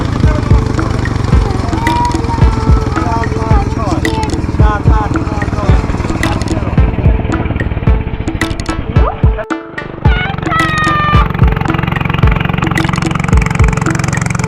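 A motor boat engine drones steadily on a river trip in Bandarban, a constant low hum running throughout with people talking over it and a brief dip near the middle.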